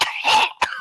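A voice mimics the sickly coughing of men in a tavern: a throaty cough and a second short hack, close and fairly loud.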